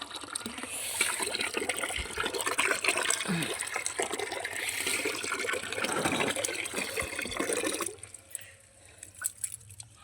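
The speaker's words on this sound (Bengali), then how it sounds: "এই যে মটরশুঁটি গাছ, একটু করে খোল ভিজানোর জল দিই।" Soaked oil-cake water poured from a container onto pea and potato plants in a garden, a steady splashing gush lasting several seconds before tapering into scattered drips.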